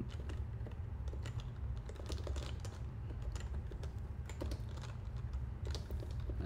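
Steady, rapid typing on a computer keyboard with dense clicky keystrokes running throughout, close and continuous over a low background hum, with no talking.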